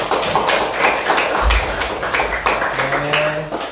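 A classroom of students claps together in a quick burst of rhythmic hand claps, close and lively, with a low thump partway through.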